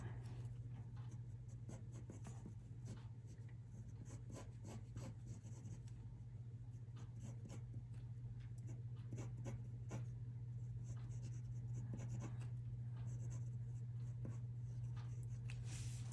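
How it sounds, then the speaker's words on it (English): A mechanical pencil sketches letter designs on paper, producing faint continuous scratchy strokes and short rubbing scribbles over a steady low background hum for a long stretch. "I'm using a mechanical pencil"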